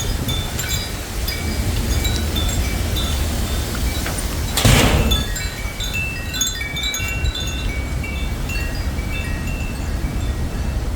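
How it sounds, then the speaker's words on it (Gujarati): Strong wind blowing outdoors on a cold day, a steady, loud rushing roar with one brief heavier buffet midway. "આ જો બહુ પવન છે."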